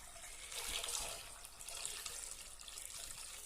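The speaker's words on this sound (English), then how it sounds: "all that we're going to do is sterilize the jar, is pour over the boiling water over the jar" Boiling water is poured over a glass jar to sterilize it while making grapefruit marmalade, giving a faint, steady splashing stream for a few seconds with no talking.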